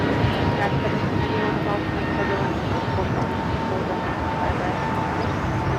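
A converted DHL ABX Air Boeing 767 freighter jet at LAX produces a steady, broadband engine roar, moderately loud and unbroken, with a faint whine above and a speaking voice underneath.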